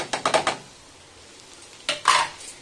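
A utensil scrapes and clanks against a pan while cabbage and egg are stirred with salt, cumin powder, garam masala and chilli powder, in two short bursts of clatter separated by a quiet pause.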